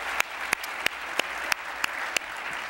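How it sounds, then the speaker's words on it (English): An audience gives a round of applause at an interactive talk event, a steady wash of clapping with regular louder claps cutting through, sustained throughout. "Let's give him a big round of applause."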